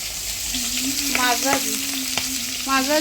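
A home kitchen pan sizzles steadily as a mother cooks, with a constant frying hiss and occasional scraping clicks; a faint tonal hum and a few brief high whistly sounds cut through midway and near the end.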